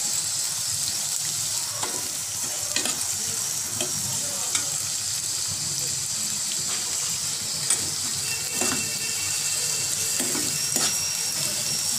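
Onions fry for an okra (bhindi) sabji in a pan, a steady close sizzle with occasional scraping stirs and light clatter throughout.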